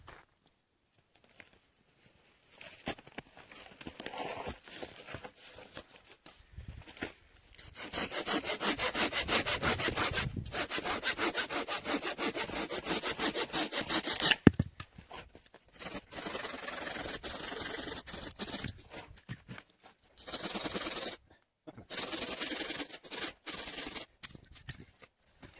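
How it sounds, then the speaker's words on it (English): A cheap folding hand saw cuts through dead wood in a forest, with bursts of steady rasping back-and-forth strokes separated by short pauses, close and fairly clear. "It's a folding saw."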